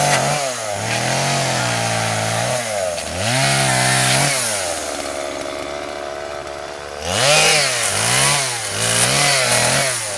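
A chainsaw cuts into a tree, its engine revving up and down repeatedly as it bites, loud and close, with a quieter idling stretch in the middle.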